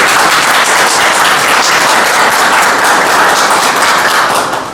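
A big crowd at a private school event celebrates students' university exam success with loud, dense, continuous applause, tapering off at the very end.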